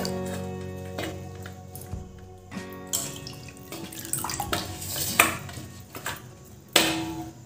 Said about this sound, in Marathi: तीन वेळा आपण आता साध्या पाण्याने भाजी धुवून घेऊ